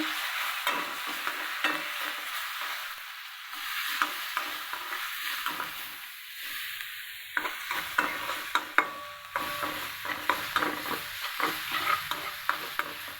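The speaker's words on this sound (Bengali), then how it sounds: "এখন আমি মশলাটা ভালো করে ভেজে নেব।" Ginger-garlic and cumin paste sizzles in oil in a pan while being stirred, with a soft steady frying hiss and repeated scraping strokes that grow more frequent toward the end.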